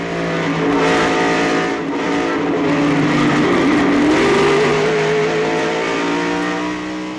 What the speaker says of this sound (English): From the in-car, look and listen to Rusty Wallace's spin.